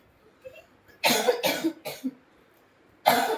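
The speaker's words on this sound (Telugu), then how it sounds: "ఇట్లా దగ్గు వస్తుంది" A person coughs in several harsh bursts, a quick cluster of three close together followed by a pause and one more loud cough, heard near and alone without talk.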